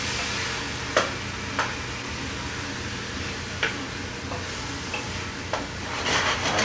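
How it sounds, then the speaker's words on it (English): Basil sautéing in a pan for homemade tomato sauce gives a steady, soft sizzle, broken by a few sharp clicks of a utensil against the pan, with no voices. "we saute it."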